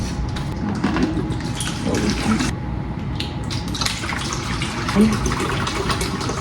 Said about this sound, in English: I have my little pitcher, and we're gonna put some spray water in there.